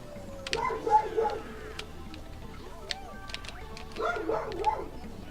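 Dogs barking and yipping at a moderate distance in a home, in two short clusters of bow-wow barks with a quiet stretch between them and a voice faintly present.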